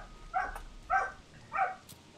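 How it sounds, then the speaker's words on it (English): A dog barks three times in the background, each bark faint and distant, evenly spaced and separated by quiet. "He's probably barking, honestly, at Fuzzy, my cat."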